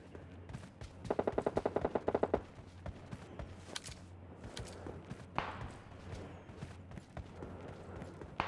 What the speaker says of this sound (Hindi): बहुत ज़ोरों से आवाज़ आ रही है गोलियों की